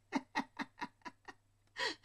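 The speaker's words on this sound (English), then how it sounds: "In through the nose, out through the mouth." Someone breathing deeply in through the nose and out through the mouth, with about six short, sharp, evenly spaced breaths followed by a pause and one longer, fuller exhale, close and clear.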